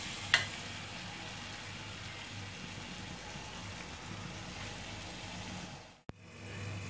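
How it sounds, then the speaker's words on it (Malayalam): Beef masala simmers in a covered pan on the stove with a faint, steady sizzle and bubble. A soft knock comes near the start and a brief clatter near the end, likely the lid. "ഇനി ഇത് നന്നായിട്ടൊന്ന് ഇളക്കിയിട്ട് നമുക്ക് അടച്ച് വെച്ച് ഒന്ന് വേവിച്ചെടുക്കാം"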